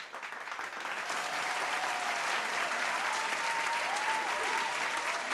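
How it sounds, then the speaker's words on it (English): A virtual conference audience gives sustained applause for Distinguished Toastmaster Morag, a steady dense wash of clapping at moderate distance, even and unbroken throughout, with no talk over it. "Can we give her another round of applause"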